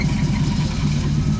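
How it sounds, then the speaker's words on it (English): A carbureted Jeep engine revs steadily while power braking on a rocky canyon trail, a continuous loud low rumble with a throbbing drone running throughout. "Power braking a little, get it revved up a little."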